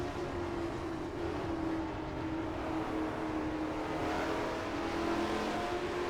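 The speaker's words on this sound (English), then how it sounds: "We're redlining about halfway down already, but yeah, we're gonna get, the Ferrari has a little more top end speed here." A Ferrari from a classic GT car pack in the Assetto Corsa racing sim, its engine held near redline in a steady, loud, high-revving drone that barely wavers throughout, with no other sounds over it.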